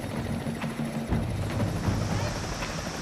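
Helicopter rotors chop steadily overhead during relief operations after a Himalayan flood, a continuous droning thrum with no voices over it.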